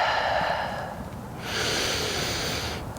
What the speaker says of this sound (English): Taking 2 rounds of breath here.